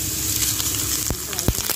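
A tadka of onion, cumin, fenugreek and dried red chili sizzles loudly in hot oil for buttermilk kadhi, a steady frying hiss broken by a few sharp crackles and pops near the end.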